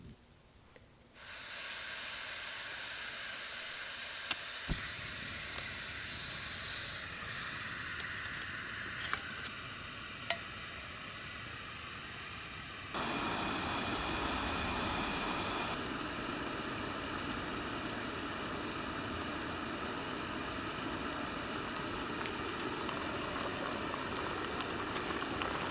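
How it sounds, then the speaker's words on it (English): MSR Windburner backpacking stove burning steadily while boiling two cups of water outdoors, a constant loud roaring hiss that shifts in tone partway through, with a few brief clicks and knocks. "we're gonna get 2 cups of water here and do a boil test."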